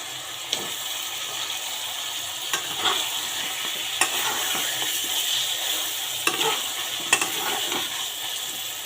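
Pieces of young, tender pumpkin fry in a pan with a steady close sizzle, broken by regular scraping clicks as they are stirred.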